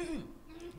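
A single short throat clearing, a close, brief rasping vocal sound that slides in pitch, heard in a quiet studio room with faint background noise.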